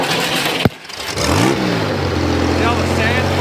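A 1960s racing engine, its solenoid clogged with sand, cranks with a sharp click, catches and revs up, then settles into a loud, steady, rough idle close by.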